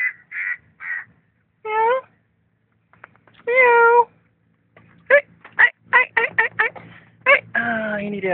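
Two kittens rescued from a car engine meow repeatedly in short, close, loud cries, scattered at first and then coming in a rapid run of several calls near the end.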